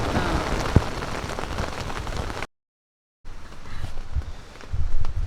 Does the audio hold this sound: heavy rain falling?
yes